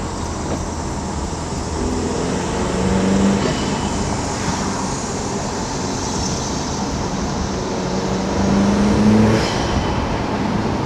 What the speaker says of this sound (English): Really nice induction noise.